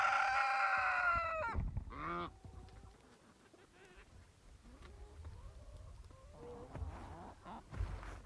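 Chickens on a homestead cluck and squawk, starting with loud overlapping calls and a crow-like cry, then dropping to quieter scattered clucks and low murmuring, with a few louder calls near the end.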